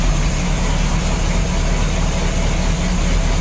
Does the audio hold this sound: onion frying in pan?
no